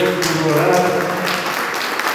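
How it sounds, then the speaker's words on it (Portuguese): Church congregation clapping together in steady, dense applause that fills the room, with a voice speaking over the clapping throughout. "Dá uma salva de palmas para Jesus."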